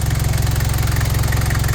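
A ute engine idles close by after an engine and gearbox swap. It gives a steady, rhythmic low-pitched chug with a slight knock, with no one talking over it.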